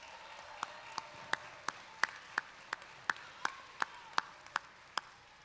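At a university fall commencement ceremony, faint, evenly spaced single claps sound in a large reverberant space, about a dozen sharp hand claps at a regular pace with no talking.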